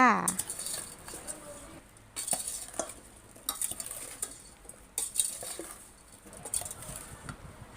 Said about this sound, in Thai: แล้วก็คนส่วนผสมทุกอย่างให้เข้ากันได้เนาะจ้า